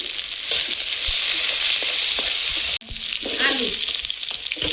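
Oil in a wok with onion, green chillies and five-spice tempering frying hard, a loud, dense sizzle with stirring scrapes, briefly cut off and then resuming, close by and without talk.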